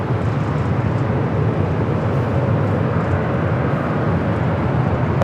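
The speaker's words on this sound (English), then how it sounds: "Flight coming in from Tokyo, Haneda, the A350-1000, flight 16." An Airbus A350-1000 arriving at LAX from Tokyo Haneda makes a steady, loud broadband jet roar that holds evenly throughout, a continuous rumble with no talk over it.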